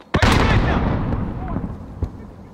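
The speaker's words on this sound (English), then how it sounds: "Hey, there's one grenade thrown." A grenade blasts in Call of Duty: Modern Warfare Warzone, one loud close boom followed by a long rumbling decay, with a smaller crack near the end.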